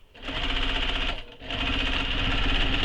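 A sewing machine runs steadily while stitching a straight edge on a convertible tote bag, a dense close whirring hum with one brief pause partway through before it starts up again.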